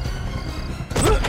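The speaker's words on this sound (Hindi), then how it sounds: "लगता है दरवाजा अंदर से बंद है, इसे धक्का मार के खोल देते हैं।" A locked door is forced open, giving a heavy thud and scrape near the end after a stretch of muffled room noise in a tense crime-drama rescue scene.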